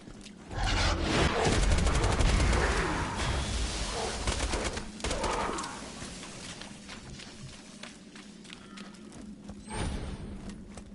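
Rapid gunfire from a weapon in the video game Borderlands 2, a dense sustained burst of shots for several seconds that thins into scattered, quieter pops with faint ambient game noise.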